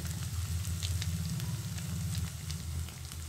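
Cream (sor) fries in a pan as it is rendered down into ghee, making a steady, dense sizzle and crackle that stays close and even throughout with no talking.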